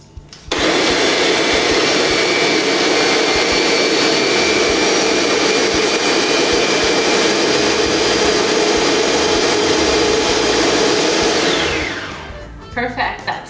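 A kitchen blender purees jalapeno sauce with a loud, steady, high-pitched whirr that holds for about eleven seconds, then winds down as the motor slows and stops.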